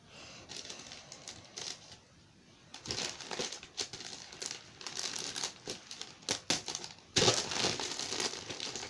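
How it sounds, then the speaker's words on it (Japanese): Crinkling, rustling plastic packaging being handled and cut open with scissors, with irregular bursts of crackle and snipping, close and fairly loud, no talking. "ハサミで開けていきます"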